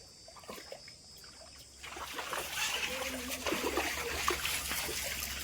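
Children splash and play in water outdoors, a steady watery churning and spattering that swells after a quieter opening, heard from nearby over faint background voices.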